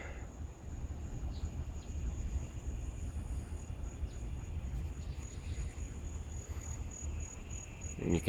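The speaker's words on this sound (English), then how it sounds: "And you can hear the frogs starting their evening songs." Evening frog chorus, likely tree frogs, trilling steadily and faintly at a distance under a constant low rumble after a storm, with a high insect-like whine running throughout.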